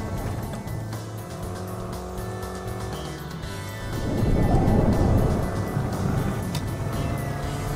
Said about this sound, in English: Love the way the engine holds that power, holds the revs